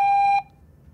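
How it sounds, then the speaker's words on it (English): Single answering machine beep tone, a steady electronic pitch that sounds loud and clear for under half a second, then cuts off to quiet room hiss. "Please leave a message after the tone."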